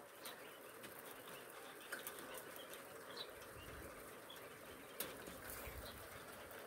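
Quails in a crowded rural pen, with wing flaps and faint rustling and cooing over steady low background noise, plus a few brief louder flutters.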